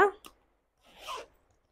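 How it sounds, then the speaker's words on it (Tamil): Zipper on an inexpensive handbag being drawn, one short rasp near the start followed by a longer, louder zip run about a second later, close and clear, with a brief voice at the very beginning. "ஜிப் மட்டும் நல்லா ஒர்க் ஆகுது."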